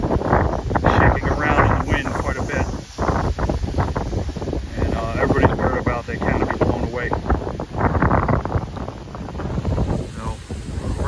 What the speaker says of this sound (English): Winds really picked up.